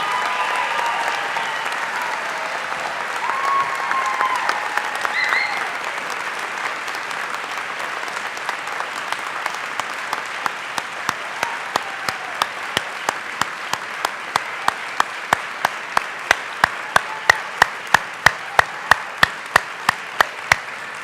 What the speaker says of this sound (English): Let's give one more big round of applause to our new dental and dental hygiene graduates